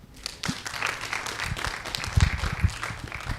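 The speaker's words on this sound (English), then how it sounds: "Clap for us at least" Scattered audience clapping at an editors' sensitization workshop, building into a short burst of applause with a few louder claps near the end, heard close and moderately loud with faint chatter underneath.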